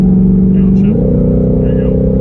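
A 2020 Shelby GT500 with a dual-clutch transmission roars loudly up close, its engine note jumping sharply higher about a second in as it downshifts, then holding at a strained, elevated rev.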